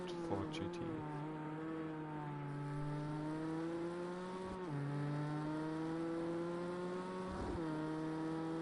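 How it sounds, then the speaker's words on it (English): A Ford GT engine in the Project CARS 2 racing game holds a high, steady whine that rises and falls through gear changes, heard from a distance beneath a commentator's voice. "Is it just me, or is Skollendag really revving out that Ford GT?"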